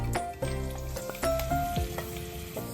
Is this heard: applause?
no